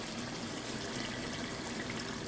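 Water is poured from close by into a cooking pot of simmering Jamaican curry chicken, giving a steady, even splashing rush that lasts a couple of seconds with no voices.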